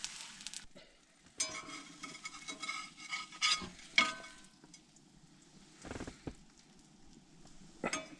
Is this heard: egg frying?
yes